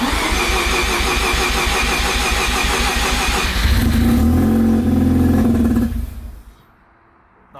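A Mazda RX7 FC3S rotary engine with a BNR hybrid turbo cranks with a fast, steady chugging, catches and flares into a loud, rough rev, then dies away to quiet.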